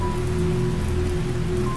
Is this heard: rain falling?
yes